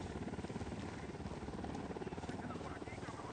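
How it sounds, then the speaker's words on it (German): A helicopter in the video game Ghost Recon Wildlands flies away with a steady, dense rotor thrum and whine. It holds continuous and fairly even, with no talk over it. "Der Hubschrauber ist weg."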